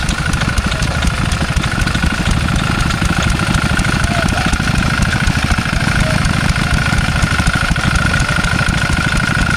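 A vintage Lister D stationary engine runs at an outdoor rural show, a loud, steady rapid chugging idle close by, with other old engines nearby.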